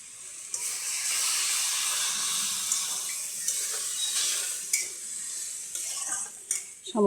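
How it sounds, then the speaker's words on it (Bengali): Water poured into a cooking pot of shrimp and banana-flower curry, giving a steady hissing sizzle with small metallic clinks and scrapes, followed near the end by louder clanks as the lid goes on; no talk. "এবার সামান্য জল দিয়ে ঢেকে দেব।"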